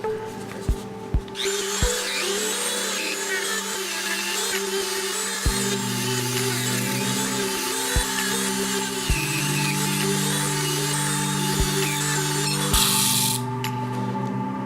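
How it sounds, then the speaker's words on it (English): A Dremel rotary tool works on a pewter play button, its steady high motor whine running throughout, broken by sharp intermittent clicks and knocks as the piece is handled, loud and near. "So now it's time to use the Dremel."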